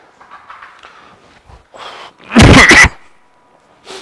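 A lecturer teaching a Korean exam-prep course on postal and banking knowledge lets out a single loud, harsh cough burst, close and brief, set apart from quiet murmurs before and after.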